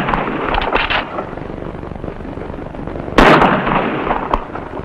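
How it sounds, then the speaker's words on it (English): Rifle shots at Navy shooting practice, with two or three sharp cracks standing out from a dense, noisy background, one loud close report near the end. "Where'd you learn to shoot like that?"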